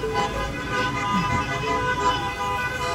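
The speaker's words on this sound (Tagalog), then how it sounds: "Kung maririnig nyo, nagbububusinahan na po sila dito kasi nagpa-practice po sila." Many car horns honk in a patterned practice for a 1000-car horn world record attempt, over steady road traffic, several overlapping toots blending into a continuous din with no voices.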